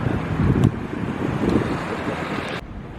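Wind blowing across a beach in Morocco with rolling surf, a steady broadband rush with gusty buffeting against the microphone, loud and continuous before easing near the end.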